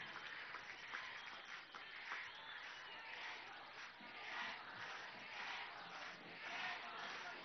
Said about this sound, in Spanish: Vamos a darle un aplauso al sol